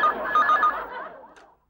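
A telephone rings in a home, its bell-like tone steady and fairly loud for under a second before fading out, with no talk over it.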